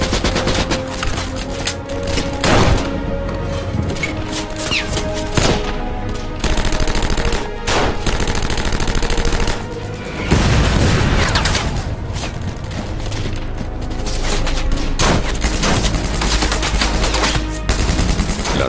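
Machine gun fire in a battle at a castle, with dense, continuous bursts and rattling volleys, loud and close, broken by occasional heavier blasts and no talking.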